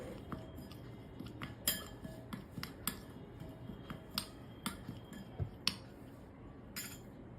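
Spiced cucumber stuffing masala with salt is stirred in a bowl with a spoon, giving faint scattered clinks and taps in an irregular rhythm, alone and quiet.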